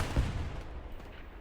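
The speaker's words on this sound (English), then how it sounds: "Glorious Michael Bay, distant explosion in the background" A distant explosion booms in the Hell Let Loose video game on the Hill 400 map: one low, muffled thump near the start that fades into a rumbling battlefield wash.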